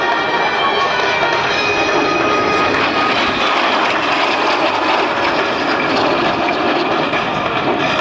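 Breitling team jet aircraft performing at the 2010 Sanicole Airshow, a loud continuous engine roar that stays close and steady for the whole stretch without pause.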